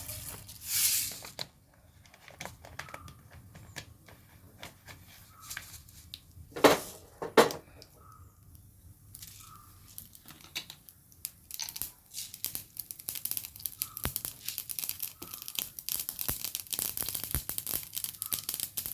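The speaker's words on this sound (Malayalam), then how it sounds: "വെളിച്ചെണ്ണ ചൂടായി ഇതിലേക്ക് കടുക് ഇട്ട് കൊടുക്കാം" Mustard seeds splutter in hot coconut oil for a bottle gourd and prawn stir-fry, building into dense, rapid crackling pops after a few quieter handling knocks, close and without talking.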